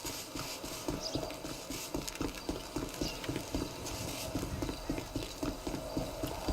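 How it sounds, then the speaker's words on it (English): Horse hooves clip-clop in a steady rhythmic trot within the FiveM zombie survival game, a quick run of repeated clops over a low background bed, with no talk. "if you're lucky enough to find a horse around here, you could use one of those and ride it"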